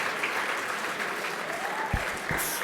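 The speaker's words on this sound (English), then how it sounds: "let's give a big round of applause for Scott Wiener" Dinner audience at a Jewish Caucus summit event applauding steadily, a dense continuous wash of clapping throughout with a faint voice briefly audible in the crowd.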